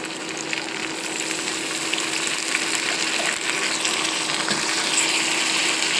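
Onion with ginger and garlic frying in a pan for dal, a continuous soft sizzle and hiss that stays even and close throughout, with no voices.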